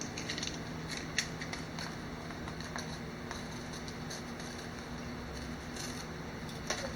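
Scissors snipping off excess costume material for a Starscream Transformers costume, a few faint, sharp cuts spread over a low steady background hum with no talking.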